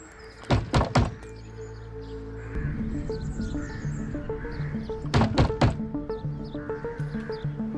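Knocking on a door: two bursts of three or four sharp, loud thumps, one near the start and one about halfway through, over faint background music.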